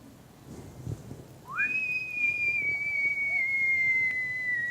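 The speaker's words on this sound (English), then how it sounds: "You hear a whistle." A whistle sound effect like a falling bomb sweeps up, then holds a long, clear high tone that slowly drops in pitch, heard alone over a faint background.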